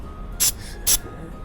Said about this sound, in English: Spray it thoroughly